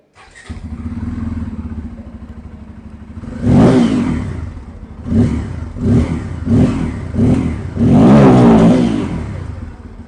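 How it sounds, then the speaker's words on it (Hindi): A Bajaj Pulsar N250 motorcycle with a dual-barrel exhaust idles with a low throb, then is revved in several sharp bursts, the last one longer and held, loud and close with no talking. "तो सबसे पहले आवाज़ मैं आप लोगों को यहाँ पर N250 की सुना देता हूँ।"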